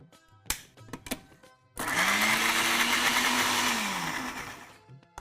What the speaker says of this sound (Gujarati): એને મિક્સર જારમાં લઈને ગ્રાઇન્ડ કરી લઈશું